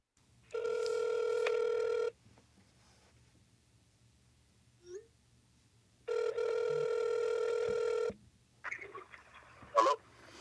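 Telephone ringback tone on an outgoing call, two long buzzing rings separated by a few seconds of quiet, clear and fairly close, followed by brief faint sounds as the line connects.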